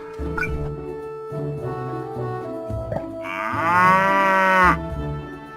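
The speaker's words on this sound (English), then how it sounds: "A cow." A cow gives one long, loud, close moo that rises and then falls away, following a few shorter low sounds, over a steady background tone.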